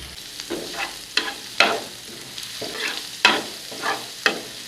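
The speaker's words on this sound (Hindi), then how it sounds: "लहसुन अदरक के पेस्ट को अच्छे से भूनेंगे। जीरा शामिल करेंगे साबित," Garlic ginger paste and whole cumin are stir-fried on a tawa for kaleji, with repeated sharp scraping strokes of a spatula over a constant close sizzle, roughly one stroke each second.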